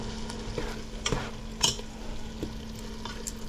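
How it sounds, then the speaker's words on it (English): A pot of corn stew with okra and pig tail bubbles away, a continuous crackling simmer with scattered small pops and clicks over a low steady hum. "let it boil for a while and get the flavors in"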